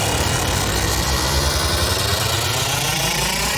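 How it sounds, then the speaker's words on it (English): A noisy riser sample from a sound pack, resembling an engine revving up: a dense, loud, continuous roar with a broad hiss that slowly climbs in pitch across the whole stretch, with no voices. "Kind of sounds like an engine revving up"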